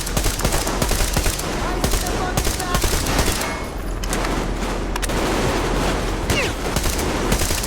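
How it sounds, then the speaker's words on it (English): Automatic weapons rattle in Metro Exodus, rapid overlapping bursts of close gunfire with sharp cracks and a few heavier booms, sustained almost continuously with a short lull midway. "Covering fire for the Colonel! No saving ammo!"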